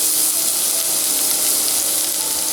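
Chopped onion frying in olive oil for a low-fat French pea soup gives a steady, close, bright sizzle and hiss that stays even throughout, with no talking.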